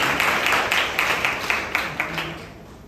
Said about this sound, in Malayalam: നിങ്ങൾക്ക് എന്നൊന്ന് കൈയടിക്കാൻ കേട്ടോ.